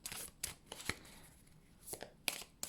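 A tarot card pulled from a deck, with quick papery slides and flicks of cards in short bursts, close but quiet, while a voice speaks intermittently.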